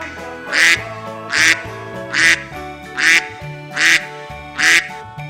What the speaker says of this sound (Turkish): Ördekler vak vaktı.